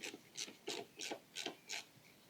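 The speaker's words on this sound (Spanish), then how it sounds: "Vamos a coger la carraca para hacer palanca." A ratchet works a stiff bolt loose on a Suzuki GSX 125 S motorcycle, giving about six evenly spaced rasping strokes. The sound is close and fairly quiet, with no voices.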